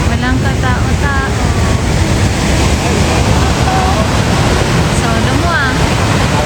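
Strong rushing water roars steadily at a campsite in Waterton National Park, a loud broadband wash filling the whole stretch, with people talking casually over it.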